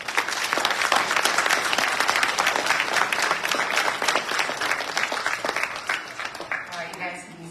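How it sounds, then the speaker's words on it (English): Crowd at the 2023 Charter College Wenatchee graduation ceremony applauds, a loud, dense, continuous clapping with scattered cheers that eases slightly toward the end. "Let's all applaud them."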